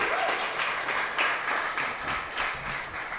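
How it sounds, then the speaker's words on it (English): Live podcast audience breaking into a round of applause, a steady wash of many hands clapping at moderate volume that swells and eases slightly over about three seconds, with no voices on top. "Can we get another round of applause?"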